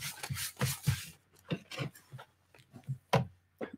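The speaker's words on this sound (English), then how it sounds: "I do sort of try to rub that glue down along there" A fingertip rubs glue down along a paper page in a handmade nature journal, making a series of soft, close, dry rasping strokes in irregular bursts, with brief pauses between them.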